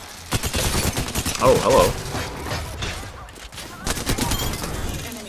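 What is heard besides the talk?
gunfire in a video game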